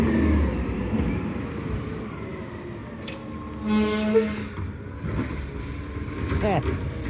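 An EDI McNeillus ZR garbage truck works at night, its engine rumbling nearby with hissing air brakes and mechanical clatter, while people talk and exclaim over the noise.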